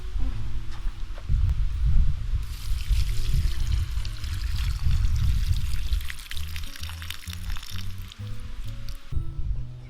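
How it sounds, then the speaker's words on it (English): Drained instant noodle cooking water poured from a pot onto potted plants, a continuous splashing, gurgling pour that runs nearly ten seconds, close and fairly loud, with a trickling tail near the end. "So instead of wasting that water, we're gonna water the plants."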